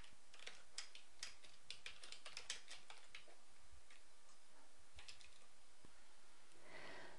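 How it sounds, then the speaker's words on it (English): Clicky keystrokes on a computer keyboard, tapped in quick irregular bursts with short pauses between runs, close and fairly quiet against a silent background. "we can just start typing to replace it"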